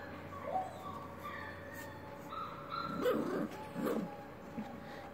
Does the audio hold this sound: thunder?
no